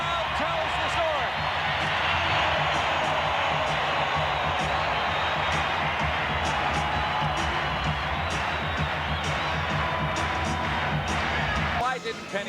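Basketball arena crowd at a 1995 NBA game roaring and cheering in a dense, sustained wash of noise, with scattered claps and shouts throughout.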